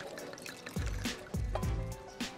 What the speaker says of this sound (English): Get yourself a good bottle of red wine and cover the apples.